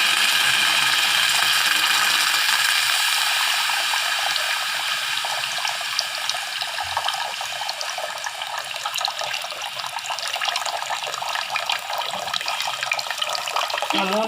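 Three glasses of water are poured into milk cooking for wedding-style payasam, giving a continuous bright splashing, trickling stream with small clicking mechanical textures, fairly close and steady throughout.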